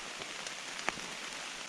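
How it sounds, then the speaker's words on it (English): Rain falls outside a cabin in the woods on a rainy morning, a steady soft patter of drops with one sharper close drip, faint and continuous with no talk. "listening to the rain"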